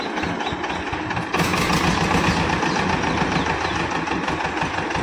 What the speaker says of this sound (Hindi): ट्रैक्टर स्टार्ट करते हैं